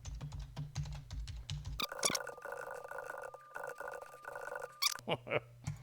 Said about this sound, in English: I'll type in there.